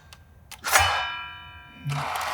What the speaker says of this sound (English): That sound is the sound of the carbide teeth, and it's making a little ring in the blade.